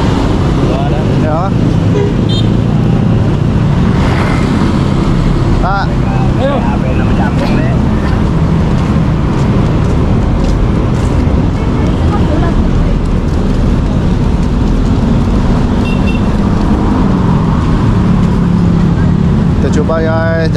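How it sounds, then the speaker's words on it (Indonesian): Busy Jakarta street traffic with many cars and motorbikes, a constant loud engine rumble close by, with occasional horn toots and a person talking over it. "Jalan motor banyak, kereta banyak."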